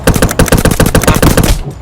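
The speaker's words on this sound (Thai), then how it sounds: "เออมันยิงปืนได้ด้วย ยิงปืนได้ด้วย" Rapid automatic gunfire in the zombie video game Zumbi Blocks 2, a loud burst of evenly spaced shots stopping abruptly near the end.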